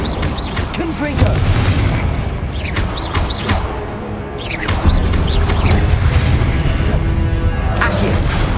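The Confringo fire spell in Hogwarts Legacy goes off repeatedly during a hard-mode trial fight, a series of booming blasts and crackling impacts mixed with battle noise and a voice calling out.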